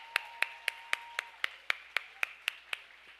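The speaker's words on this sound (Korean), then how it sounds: "뜨거운 박수 다시 한번 하겠습니다." A church youth-service congregation claps in short, evenly spaced bursts, about a dozen sharp claps in steady rhythm with a faint sustained tone beneath early on.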